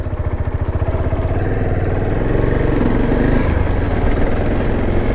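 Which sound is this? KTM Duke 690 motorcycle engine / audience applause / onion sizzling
KTM Duke 690 motorcycle engine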